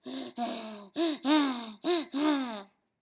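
Heavy, rasping panting in six breathy pulses, an eerie voiced huff on each breath, loud and close, likely a person imitating a monster.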